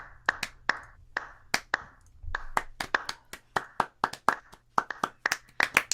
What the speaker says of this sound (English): It's a long clap